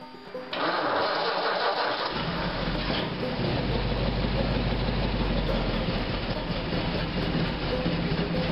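Old Ford engine on a 6-volt battery catching and settling into a steady, loud idle, with a dense mechanical rumble after a brief lead-in.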